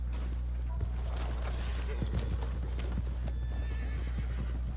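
In Red Dead Redemption 2, a horse whinnies while its hooves clop in a steady rhythm over a constant low hum, with a voice talking intermittently above it.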